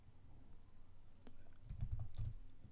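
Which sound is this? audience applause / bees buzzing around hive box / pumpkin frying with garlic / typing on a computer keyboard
typing on a computer keyboard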